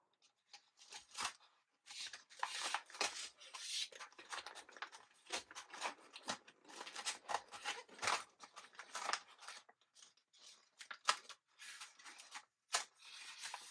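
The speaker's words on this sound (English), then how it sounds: "And peel off the paper liner from the top." Paper liner being peeled off a vinyl sheet for custom chip bags, a long dry crackling rip with scattered soft scrapes and rustles, close and quiet.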